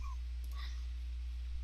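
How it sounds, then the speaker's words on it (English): Dogs give a few faint, brief whimpers and yips early on, quiet and over a steady low hum in a room, with no talking. "Excuse my dogs."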